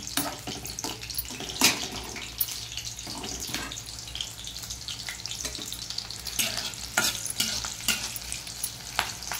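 Green chillies frying in a pan, a continuous crackling sizzle with frequent scraping stirs and splashy bursts, close and fairly busy throughout, without speech.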